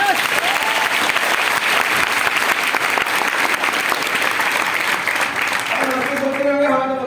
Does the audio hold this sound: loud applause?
yes